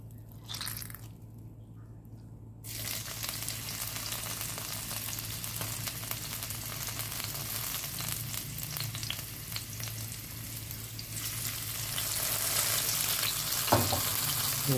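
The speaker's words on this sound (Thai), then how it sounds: "เอาตัวเห็ดหอมนะครับที่เราแช่น้ำจนนิ่มแล้วนะครับเอาลงไปผัดนะครับ" Soaked, squeezed shiitake mushrooms stir-fried in oil over medium heat for a vegetarian glass-noodle dish, giving a steady close sizzle with scraping stirs and a brief clatter near the end.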